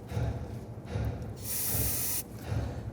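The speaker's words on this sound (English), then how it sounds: "We're going to use some spray solvent on a rag" A steady aerosol solvent hiss sprays onto a rag for under a second between soft rustling and handling noises.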